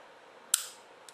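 A single sharp mechanical snap from the trigger of a Baby Browning .25 ACP pocket pistol, close and crisp, followed by a faint click and otherwise near-silence.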